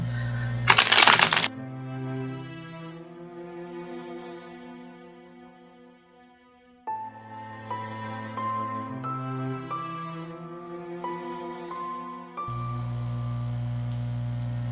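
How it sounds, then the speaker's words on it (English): A tarot card deck is shuffled in a short, crisp riffle burst near the start, then gives way to soft sustained background music with no talking. "So I'm going to go ahead and shuffle the deck and lay out the cards."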